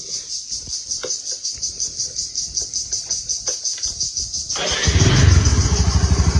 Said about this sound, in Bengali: সেলফে টোকায় স্টার্ট।